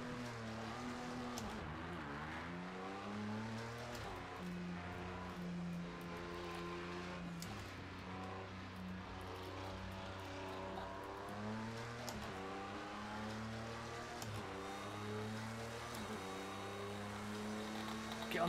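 An Audi race car in Project CARS 2 at Le Mans: a steady, droning engine note rising and falling through gear changes and repeated revs, continuous and close throughout.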